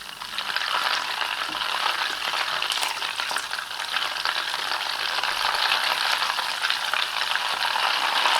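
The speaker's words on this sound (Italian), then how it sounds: "Quando cominci a bollire, mescolo in continuazione finché ottengo un colore ambrato." Continuous bubbling and sizzling of butter boiling in a pan until amber, with occasional scraping and clinks as it is stirred continuously; close, no talking.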